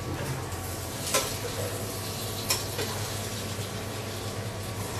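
Beef tripe fries in a pan as a continuous soft sizzling hiss, steady and close, broken by a couple of faint clicks, with no talking.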